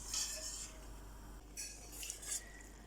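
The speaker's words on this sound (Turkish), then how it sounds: "bir kaşık yardımıyla bu siyah köpükleri, kenardaki köpükleri almayı unutmuyoruz" A metal spoon skims foam from a pot of boiling sour cherry jam, giving a few faint, light clinks and scrapes against the pot in quiet surroundings.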